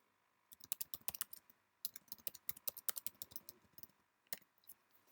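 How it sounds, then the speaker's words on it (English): Fingers type on a computer keyboard in quick irregular bursts of crisp clicking keystrokes, broken by a brief pause, close and otherwise quiet. "As we type new text"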